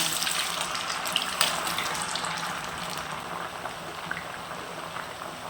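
Curd murukku dough pressed into hot oil, frying with a steady dense crackling sizzle and scattered sharper pops throughout, close and fairly loud with no voices.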